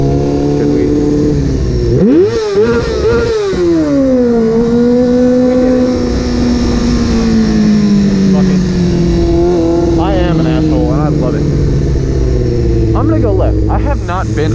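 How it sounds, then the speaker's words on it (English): An engine revs up sharply and then holds at a steady drone, loud and close, with people talking over it. "Should we rev at them?"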